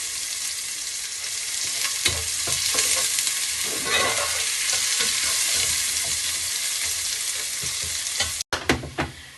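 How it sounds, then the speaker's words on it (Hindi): Onions frying in a pan for matar pulao, stirred until golden: a steady, loud sizzle runs throughout, broken by scraping spoon strokes and a few sharp knocks near the end, with no talking. "और प्याज को हमने गोल्डन सा करना है, डार्क नहीं करना।"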